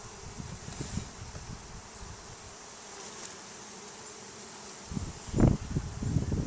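Honeybees hum softly during a package bee installation, a faint continuous buzz with rustling and handling bumps that grow louder near the end.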